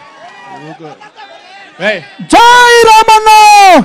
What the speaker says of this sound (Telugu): రామన్నకు గట్టిగా చప్పట్లు.